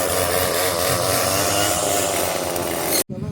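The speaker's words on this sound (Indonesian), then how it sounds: "Potong rumput." A loud, close two-stroke grass cutter buzzes continuously at high revs on a farm in Japan, then cuts out abruptly near the end before briefly sputtering again.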